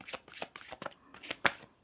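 Tarot cards being shuffled by hand, a run of quick papery riffles and flicks in short bursts with a sharper snap near the end, close and fairly quiet with no talking.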